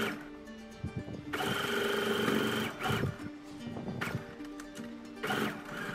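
A sewing machine stitching the side seam of a blouse runs in several bursts, a fairly loud, even mechanical whir that starts and stops, with short pauses and handling clicks between runs.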